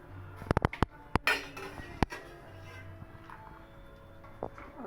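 Cooked broccoli being drained through a strainer produces a cluster of sharp metallic clinks and knocks early on, one more a little later, then a quieter stretch with faint rattles, close by and without talk.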